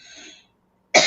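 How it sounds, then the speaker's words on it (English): A single sharp cough bursts out close to the microphone after a brief stretch of quiet, following faint trailing speech. "I've been trying to mute myself when I cough"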